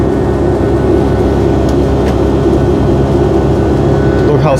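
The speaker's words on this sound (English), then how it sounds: "I don't know if you can even hear me through these engines. They are so loud" A Condor Boeing 757's jet engines roar during takeoff, a loud, dense, unbroken cabin rumble that fills the whole stretch with little change in level.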